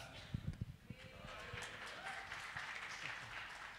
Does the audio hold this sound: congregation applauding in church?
yes